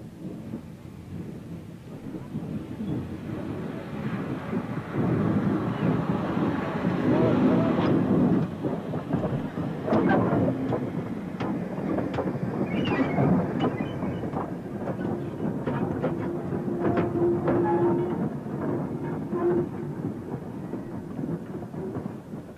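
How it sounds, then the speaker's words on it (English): A Great Western 2800 class steam freight locomotive works along the Severn Valley Railway, a steady loud rumble and chuff of engine and rolling wagons running the whole time, no voices over it. "gave Great Western fans another chance to see the 280 freight engine at work"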